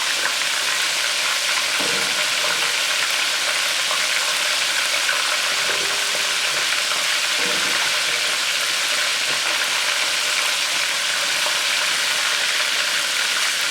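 Oysters and shrimp deep frying in hot oil, a loud, dense, continuous bubbling sizzle heard up close, with a few brief thuds and stirs breaking through.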